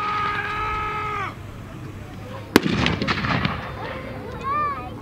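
A PAK 38 anti-tank gun fires once at a battle reenactment, a single sharp, loud blast in the middle that rumbles away, amid outdoor noise with talk nearby.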